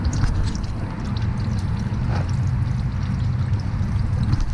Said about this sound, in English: I'm gonna let this drain and I'll be right back